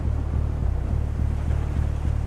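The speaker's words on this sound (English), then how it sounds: "The rain is a little harder now, and larger waves hit the hull with great booms and crashes." Rain and large waves strike a ship's hull: a steady, close rumbling wash with dull thuds repeating roughly every third of a second, and no voices.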